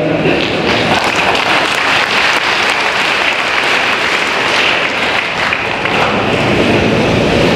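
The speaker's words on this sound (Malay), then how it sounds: "beri tepukan kepada mereka" An audience at a GRS political rally speech in Keningau applauds loudly and continuously, a dense sustained wash of clapping that fills the whole stretch.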